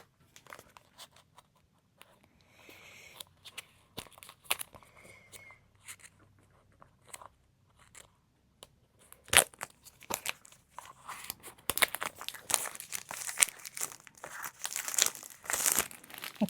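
Plastic packaging around a DJI Osmo Action 5 Pro being sliced and torn open, with crinkling and crunching that starts soft and sparse, then grows into louder, dense bursts of tearing toward the end; no talking.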